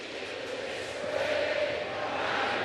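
A baseball stadium crowd at a Cardinals vs Mets game sings the chorus of a song, a broad, steady roar of many voices with a faint sustained sung note rising through the din.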